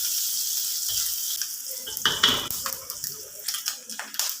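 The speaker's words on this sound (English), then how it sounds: "Now I'm adding in the dry shrimp. I'm using medium fire," Dried shrimp sizzle and crackle in a pan over medium-low heat, a soft hissing fry with a few stirring scrapes and clicks toward the end.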